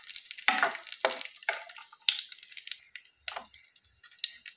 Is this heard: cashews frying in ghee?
yes